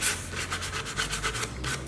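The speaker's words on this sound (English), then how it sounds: "otherwise just hand sanding's plenty good enough" Wood being hand sanded with foam-backed sandpaper, a close, steady back-and-forth rasping in quick regular strokes, heard alone.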